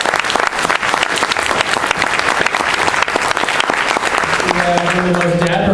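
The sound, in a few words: audience applause for a Marvel talent relations manager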